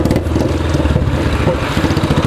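A loud modified Royal Enfield Bullet motorcycle rides nearby, its engine thumping in a rapid, rough, pulsing rhythm that dominates throughout.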